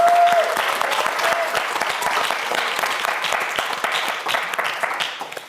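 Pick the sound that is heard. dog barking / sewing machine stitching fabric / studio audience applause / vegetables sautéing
studio audience applause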